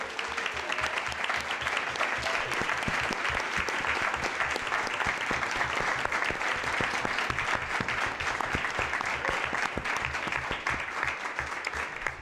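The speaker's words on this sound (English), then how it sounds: "now could we have a round of applause?" A school board meeting audience gives a sustained round of applause, a dense, even roar of many hands clapping at steady loudness for over twelve seconds with no talking.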